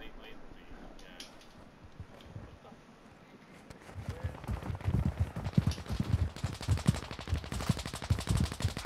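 Gunfire in the game Warzone 2, rapid bursts of automatic shots building up in the second half, fairly loud and dense, with distant pops earlier under a player's voice.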